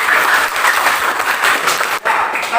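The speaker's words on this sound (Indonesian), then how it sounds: "Oke, bagus. Tepuk tangan untuk." Students in a classroom break into loud, continuous applause, a dense, close burst of many hands clapping that dips briefly near the end before resuming.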